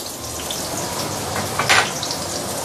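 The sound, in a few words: garlic, shallot and French beans sautéing in oil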